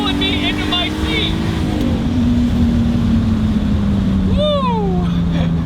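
A single-turbo BMW 328is tuned to about 400 horsepower pulls hard in third gear, a loud steady engine drone heard from inside the car, with a brief vocal whoop near the end.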